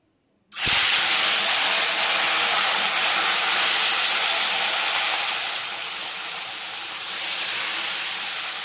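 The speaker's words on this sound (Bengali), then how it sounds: "তো দেখো তেলটা খুব সুন্দর গরম হয়ে গেছে মাছগুলো ছেড়ে দেবো" Salted fish hits hot oil in a kadai and bursts into a loud, steady sizzling hiss that starts abruptly after a brief silence and continues strongly, easing slightly toward the end, close up with no talking.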